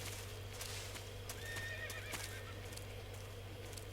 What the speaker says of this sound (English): Ooh, I hear a horse.